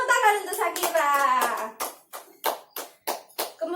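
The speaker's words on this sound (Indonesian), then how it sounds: "Tepuk tangan untuk Syakira." In a classroom for blind sixth-grade students, children speak at first, then a few rhythmic bursts of clapping follow for a student, spaced with short pauses.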